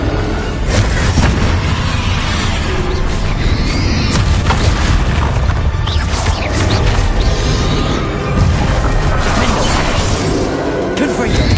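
Fire-spell explosions in a Hogwarts Legacy battle on PS5 crash and boom over and over in a dense, loud, unbroken wash of impacts and debris, with speech mixed in.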